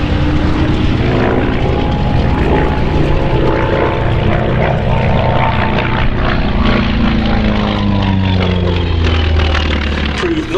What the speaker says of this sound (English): the result was the F4F Wildcat with the R1830 engine